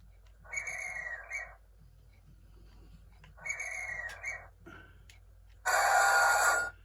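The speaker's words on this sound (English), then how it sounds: "guard whistle" Three separate bursts of a shrill guard whistle sound effect from a radio-controlled model train, the first two about a second long, the last louder and more piercing, with quiet pauses between.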